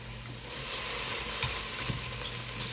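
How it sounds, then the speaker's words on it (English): Meat and onions fry in a pot for pot roast, a steady loud sizzle with a few clunks of a utensil stirring and no speech. "We got some meat and some onions in here. We're gonna let this fry up a little bit"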